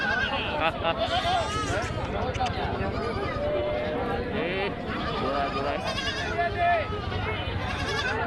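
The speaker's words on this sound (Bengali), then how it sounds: "এই ছাগলের হাটটা আমার চিরচেনা।" Goats bleating at a large goat market, several animals calling repeatedly amid a busy crowd, with someone talking close by over the constant murmur.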